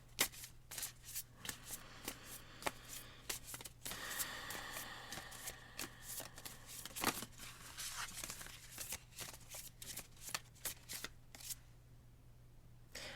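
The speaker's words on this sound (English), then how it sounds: "we're just going to shuffle these cards" Oracle card decks being shuffled by hand close up, repeated riffles and soft slides of card stock in bursts with short pauses, ending quietly.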